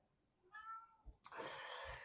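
A domestic cat meows once, a short harmonic call, followed by a louder burst of broadband rustling or handling noise close to the microphone, with no talk.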